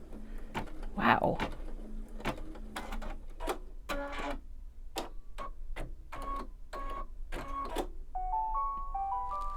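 Embroidery machine stitching a free-standing lace bookmark on Mylar, a steady mechanical whir with rapid rhythmic needle ticks and sharp clicks, close up, with a brief exclamation from a person near the start and electronic beeps at the end.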